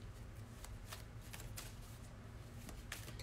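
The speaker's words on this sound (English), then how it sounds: "just shuffling the cards so we can see what we need to know about the crown chakra" Oracle cards from a crystal inspirational deck being shuffled by hand, a run of soft riffling and slapping bursts at irregular intervals over a low background hum.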